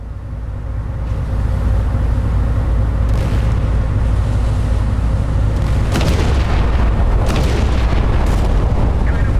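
Naval gunfire in the Battleship Command game by MicroProse: a constant loud low rumble with booming shots that land around the 3 and 6 second marks, then several more sharp reports later on.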